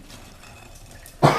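A single dry-throated cough, sudden and loud near the end after a quiet stretch.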